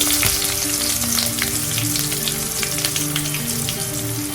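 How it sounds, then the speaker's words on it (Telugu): Coarsely crushed garlic and sliced onion fry in hot oil for Andhra-style pappu charu, giving a dense, close, crackling sizzle with sharp pops and spatters over a low steady hum, unbroken and without speech. "దీంట్లోనే ముందుగా కచ్చా పచ్చాగా దంచి పెట్టుకున్న వెల్లుల్లి"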